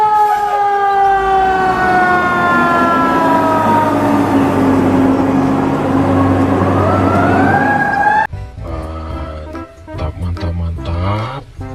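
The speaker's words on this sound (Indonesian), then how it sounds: "Wih, yang ini ada mobil pemadam kebakaran lagi" A fire truck siren wails loudly and close by, its rising and falling tone sweeping steadily for about eight seconds before it cuts off abruptly, leaving rumbling traffic and mixed street noise.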